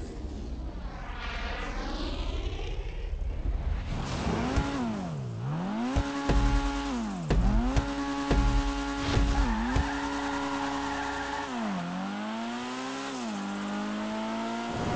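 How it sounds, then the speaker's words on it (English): A Dinka Sugoi sports car in GTA Online spins its wheels on takeoff. Tires squeal loudly and steadily while the engine revs rise and fall through repeated surges, then settle into a strained drone. "The Sugoi has excessive wheel spin before it takes off, which is quite annoying"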